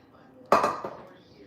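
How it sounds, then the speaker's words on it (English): A pot is washed in a kitchen sink, giving a single sharp metallic clank followed by a second softer knock, close and brief in an otherwise quiet room. "I'm gonna get this pot washed first"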